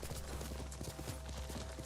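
Steady clip-clop of horse hooves at a trot in Ghost of Tsushima, even and continuous throughout, with a faint game ambience beneath.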